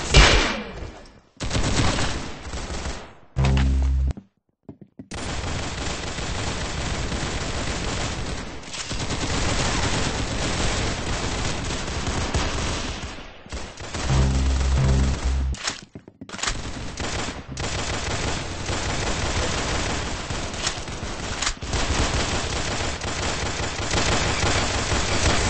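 Roblox video game gunfire, loud rapid bursts and sustained automatic fire continuing through most of the stretch with a few brief pauses.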